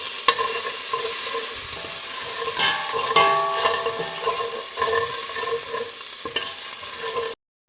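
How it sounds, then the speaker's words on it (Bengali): A spice mix of cinnamon, asafoetida, chilli and ginger is stirred in a hot pan for khichuri, with close scraping strokes over a continuous sizzle, ending abruptly. "ভালো করে মশলাটাকে মিশিয়ে নেব।"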